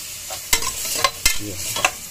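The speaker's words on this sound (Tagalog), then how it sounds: "lagay na natin yung black beans para mag-gisa siya" Black beans sauté in a pan under a soft sizzle, punctuated by four sharp scraping strokes of a spatula stirring them at a regular pace, close and fairly loud.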